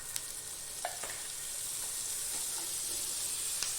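Butter sizzling in a hot pan on the stove before fish is fried, a steady close hiss with a few faint ticks and pops.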